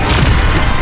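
A sniper's shot in Arknights lands as a loud, close, broadband boom. It is one heavy blast lasting under a second.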